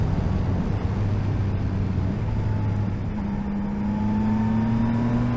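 A Yamaha Tracer 9 GT motorcycle rides with its quickshifter auto-blipping the throttle on a downshift: a loud, steady engine drone with wind rush, then a sharp pitch jump partway through as the revs rise, with no talking.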